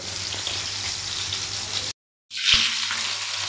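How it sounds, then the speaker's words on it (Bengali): Homemade shish kebab fries in a pan with a dense, close sizzle and crackle, broken by a short silent cut before the frying resumes with a low hum underneath. "এবার এটাকে উল্টে দেওয়া হচ্ছে। এক সাইডটা ভাজা হয়ে গেছে, আরেক সাইডটা ভাজা হবে।"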